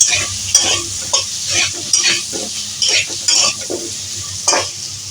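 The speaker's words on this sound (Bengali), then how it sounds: "এখন ভালো করে নাড়িয়ে একটু কষিয়ে নেব" Vegetables with salt and turmeric stir-frying for khichdi, carrot and pumpkin hissing in hot oil while a spatula scrapes and clacks against the pan in uneven strokes, close and loud with no talking.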